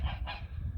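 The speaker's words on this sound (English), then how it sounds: "And there's the geese." Geese honk close by in a brief burst of two or three nasal calls over a low background murmur.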